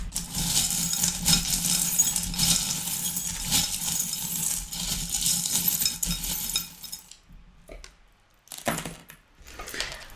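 Metal divination charms clink and jingle as they are handled and shaken, then drop with a few sharp chinks after a short pause, close and fairly loud, with no talking.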